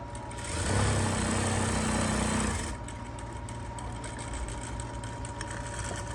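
A sewing machine runs in a loud, steady whir for about two seconds, stitching the sleeve onto a kurti, and then stops, leaving quiet handling noise.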